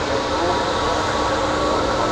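An Airbus A321neo's jet engines at Manchester Airport's runway 23R produce a steady, broadband roar that fills the whole clip without pause.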